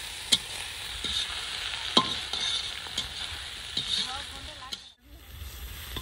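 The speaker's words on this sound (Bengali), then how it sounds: "এই শাকটা ভেজে নেবো।" Spinach greens frying and being stirred in a hot pan outdoors at a winter family picnic, a steady sizzle with scraping stir strokes at irregular intervals and a brief pause near the end.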